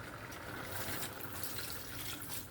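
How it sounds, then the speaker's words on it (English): Water poured into a cooking pot of Nigerian efo tete with turkey, a steady soft trickle and splash heard alone at low volume. "I then add some water and let it cook."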